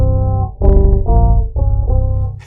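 Bass guitar played through an effects pedal gives a few thick, sustained low notes with a processed, buzzy tone. It sounds close and loud, with no talking.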